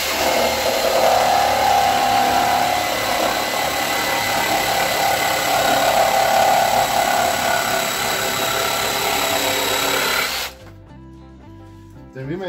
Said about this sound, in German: Wenn ihr Holz sägt, zeichnet euch das A hinten immer an